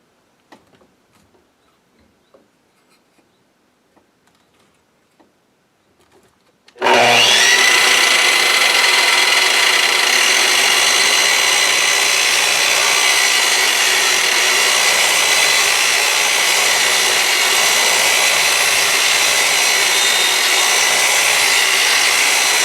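A Makita miter saw with an electric brake starts abruptly after a few seconds of near silence with faint rustling, then runs loud and steady as the blade cuts through wood stock, with no talk.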